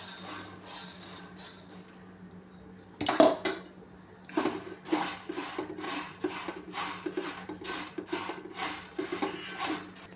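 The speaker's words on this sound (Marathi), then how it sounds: "लाह्या आपण कढईमध्ये थोड्या थोड्या घेऊन भाजून घेऊया जरा" Puffed finger millet (nachni lahya) being roasted a little at a time in a kadhai, with a steady run of light scraping and rattling that begins after a brief pause, close and fairly loud, with no talking.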